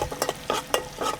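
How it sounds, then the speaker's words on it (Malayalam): A pot of fish curry bubbles and spatters in short bursts, several quick gurgling pops close by with a low simmer between them. "മീൻകറി തിളച്ചുകൊണ്ടിരിക്കുവാണ്."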